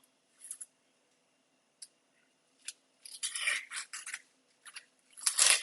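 An onion is peeled by hand in a kitchen, with crisp papery tearing and crackling arriving in scattered bursts, close and dry, the loudest rip at the very end, with quiet gaps between.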